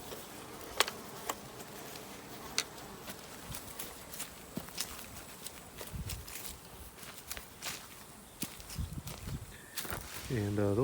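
Honey bees buzz faintly around a beehive entrance after a robbing attack, a soft continuous hum with scattered clicks and footsteps nearby, and a voice briefly heard toward the end.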